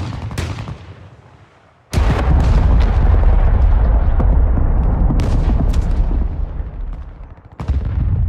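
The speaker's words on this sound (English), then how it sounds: "Friendly cruise missile deployed." Cruise missile strikes in Call of Duty Modern Warfare land as loud, booming explosions, one big blast followed by sustained rumbling and scattered crackling impacts, with another heavy hit near the end.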